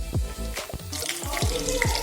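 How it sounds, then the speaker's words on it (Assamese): Onion frying in oil in a pan for Maggi noodles, a steady close sizzle with occasional clinks and stirring sounds, no talk. "প্ৰথমতে ইয়াত তেল দিলোঁ তাৰপিছত পিঁয়াজটো দি দিছোঁ পিঁয়াজটো অকণমান ৰঙা হোৱালৈকে ভাজিব লাগিব"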